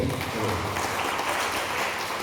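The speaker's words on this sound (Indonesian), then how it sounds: "Mari kita tepuk tangan buat tinju dulu." A crowd applauds boxing at a presentation on the Maluku Emas 2035 program, with sustained, even clapping that stays loud throughout and has no talk over it.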